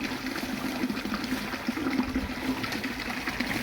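Water runs from an opened tap at a cow shelter, a continuous trickling, splashing flow heard fairly close and steady throughout, with no voices.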